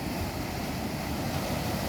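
Ocean surf rolls in at San Fernando beach in La Union, a steady, even wash of breaking waves with wind, distant and continuous, with no voices.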